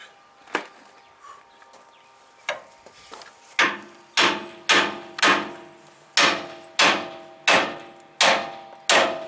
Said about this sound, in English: Let's hammer it on that nut.